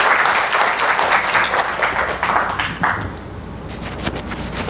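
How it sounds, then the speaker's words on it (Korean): Loud audience applause at an investment seminar lecture, welcoming a speaker, with dense clapping that thins and fades after a few seconds into scattered claps. "큰 박수로 환영해 주시기 바랍니다."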